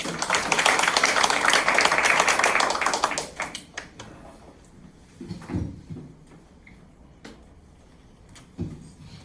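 An audience at a Busan tower crane operators' union election rally applauds a candidate with a dense burst of clapping for about three seconds, then it fades into scattered taps and room noise.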